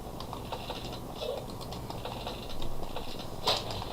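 Keys clatter on a computer keyboard in quick, uneven bursts of light taps while a greeting is typed during a Wolfteam game session, with faint background hum.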